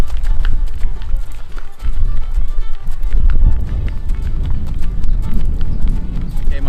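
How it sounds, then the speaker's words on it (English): A horse canters nearby, its hoofbeats thudding in a rolling three-beat rhythm on the ground, fairly loud and close, with some voices faintly mixed in. "this is a canter, or in Western, they would call this a lope."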